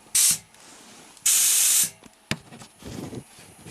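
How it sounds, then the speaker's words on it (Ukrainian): Compressed air hisses from a leaking coupling on an air compressor's pressure regulator, in two loud bursts separated by a pause, followed by a sharp click and a softer lower rustle. "Це з муфти з цієї шипить"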